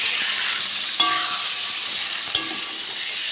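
Mustard and green chili paste sautéed briefly in a pan for a potol (pointed gourd) mustard curry, a steady close sizzle with two light scraping stirs and no talking.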